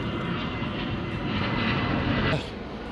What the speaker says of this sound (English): that pissing aeroplane that came over